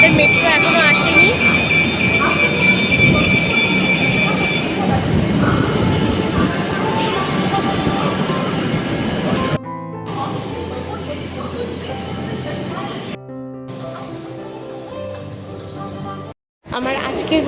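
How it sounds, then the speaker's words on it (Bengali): A metro train pulls into Rabindra Sarobar station with a loud, steady rumble and a high whine, then the noise drops and cuts in and out as it stops. A voice talks over it. "আমার আজকের মেট্রো চলে এসছে, এই মেট্রোটা করেই যাব।"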